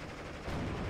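Tank gunfire from a Panzer IV H engaging an M4 DD in the Normandy 1944 strategy game Steel Division, a dense, loud burst of sustained firing filling the brief moment without talk.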